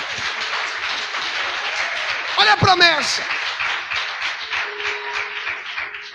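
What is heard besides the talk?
congregation applauding loudly in church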